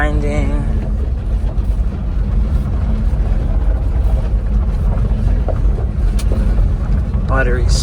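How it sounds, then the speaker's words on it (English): A supercharged Subaru Sambar engine drones loud and steady while shifting up through the gears, heavy rumbling low end throughout with wind buffeting the microphone, no clear grinding. "Go through the gears, make sure I don't hear any grinding."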